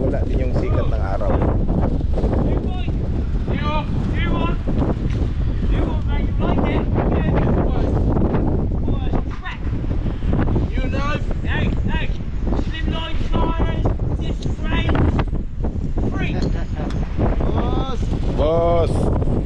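Wind buffets the microphone on a fishing boat out on the water, a steady rough roar that lasts throughout, with voices talking over it.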